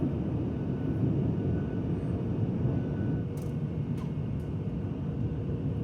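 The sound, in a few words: Oman Air airplane cabin sound while descending to Muscat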